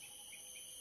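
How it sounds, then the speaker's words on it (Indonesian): A small bird chirps in a short burst of thin, high tweets, faint against a steady background hiss. "Ini lagi burung kecil."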